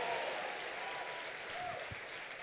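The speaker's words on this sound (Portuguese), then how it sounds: "pode dar uma salva de palmas ao Senhor." Applause from a church congregation during a sermon, a steady wash of clapping at moderate distance with no talk over it.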